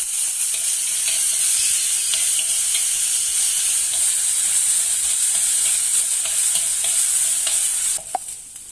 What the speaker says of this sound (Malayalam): അതിൽ ഇഞ്ചിയും വെളുത്തുള്ളിയും ചതച്ചിട്ടത് അതുപോലെ ഒന്ന് വഴറ്റുക.